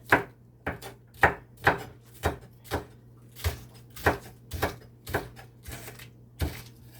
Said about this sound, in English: this is my green onions here right now, so I'm just cutting up